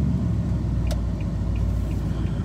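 A Nissan Titan pickup truck's engine idling after a jump start, a steady low rumble close by with an even, continuous drone and no talk.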